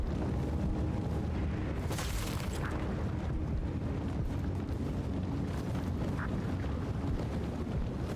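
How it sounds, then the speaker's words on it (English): Dense, continuous rumble of explosions and magic combat from the fantasy game Immortals of Aveum, with a sharp burst near the two-second mark standing out over a constant loud wash of noise. "explosions everywhere"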